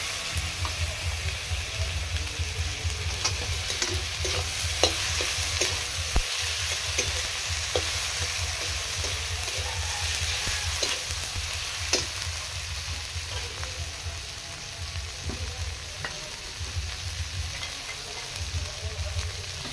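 Hand-mashed potato sizzling in a hot frying pan, a steady close fry with scattered crackles and pops throughout, occasional stirring clicks, no talking.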